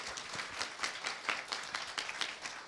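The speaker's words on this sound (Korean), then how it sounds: "이 자리를 통해서 말씀해주신 우리 네 분께 감사의 박수 보내드리겠습니다" An audience at a library humanities workshop talk concert applauds four speakers, producing a steady patter of many quiet hand claps at medium distance.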